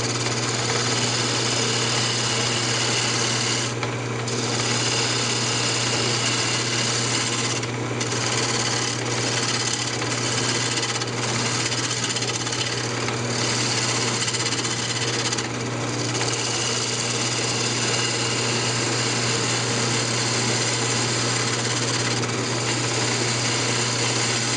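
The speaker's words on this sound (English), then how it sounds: "you can bring your lathe speed back up a little bit" A wood lathe spins a natural-edge maple bowl as a turning tool cuts it, making a loud, constant whirring drone with a steady hum and brief dips in the cutting noise.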